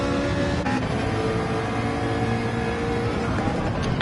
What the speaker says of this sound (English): One of the better sounding V8s in the game is Ferrari's. That flat plane crank sound.